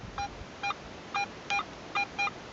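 A Garrett AT Pro metal detector sounds a short series of clean, evenly spaced electronic beeps, about six in a row, faint and alone over a rocky field at an old WW2 army camp site.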